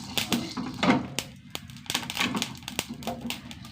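Scattered small pops and crackles of spices dry-roasting in a hot pan sound quietly and irregularly at close range.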